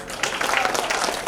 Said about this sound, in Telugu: బిగిన క్లాప్స్ అండి.